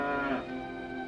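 A cow lows in a single long moo, close and clear, with no voices over it; the cow is in labour.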